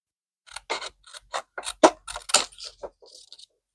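Scissors snip through envelope paper in a quick run of short, crisp cuts, close and clear with brief pauses between strokes.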